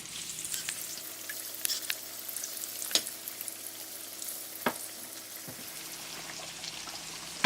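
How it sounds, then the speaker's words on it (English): Steady crackling sizzle of kingfish frying in hot oil, with a few sharp pops and clicks scattered throughout. "And now we're gonna do our frying."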